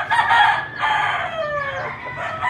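Hens in breeding pens at a rooster farm, a close, loud crowing call that breaks into clucks and squawks over a low background hum.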